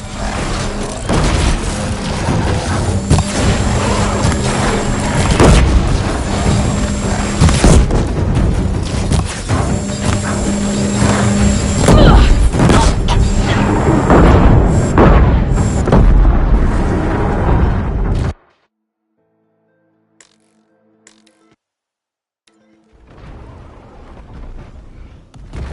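Heavy booming blasts from disc launchers in Horizon Zero Dawn Remastered on ultra hard, a dense loud barrage of explosions and mechanical clatter for eighteen seconds, then near silence with faint sparse noises before rumble returns.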